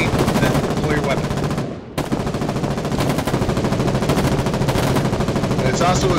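Heavy machine gun in the Foxhole war game firing in dense sustained bursts, loud and close, with a brief gap before the fire resumes amid battlefield clatter.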